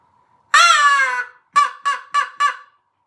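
A crow call blown by a person to imitate a crow: one long harsh caw, then four short clipped caws in quick succession, loud and close against silence.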